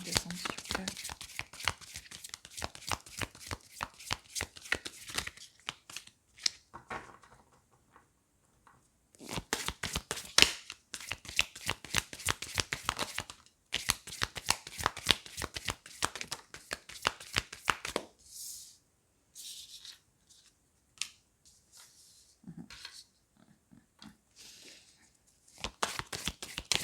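Tarot cards are shuffled by hand in rapid bursts of crisp, close riffling clicks, stopping and starting several times with short quiet gaps between runs.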